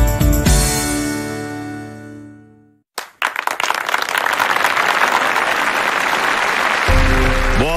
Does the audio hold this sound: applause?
yes